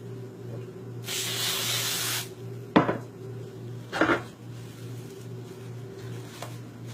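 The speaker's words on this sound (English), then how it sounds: "let me just go ahead and spray this one" A loud, steady hiss of a spray bottle misting bread dough for about a second, followed by a couple of short clatters and a brief second spray, over a low hum.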